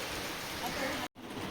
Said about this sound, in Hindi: दोस्तों बहुत तेज़ी से बारिश हो रहा है।